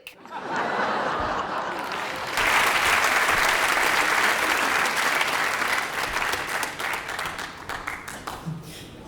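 A comedy-show audience breaks into loud, sustained applause that swells after a couple of seconds and holds steady, with scattered laughter mixed in and a voice briefly audible.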